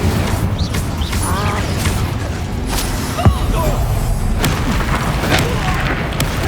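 An Incendio fire spell cast in the video game Hogwarts Legacy, heard as booming, rumbling fiery blasts and whooshes amid dense combat effects, with a sharp impact near the middle and brief snaps afterward.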